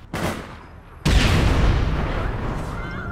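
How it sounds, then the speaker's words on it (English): Grenade explosion in the video game APB Reloaded, a sharp nearby blast with a sudden loud onset followed by a lingering rumble and debris noise, preceded by a smaller earlier bang. "Grenade!"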